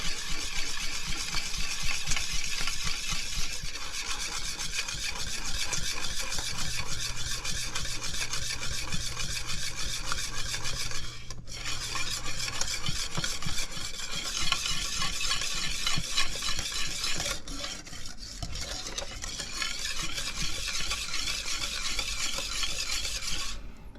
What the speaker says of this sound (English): And we continue to stir that in there.